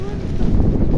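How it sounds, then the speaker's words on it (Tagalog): Strong gusts buffet the microphone outdoors in a steady low roar, loud and close, filling the whole second without any other clear sound. "Ang lakas ng hangin guys, tinatangay"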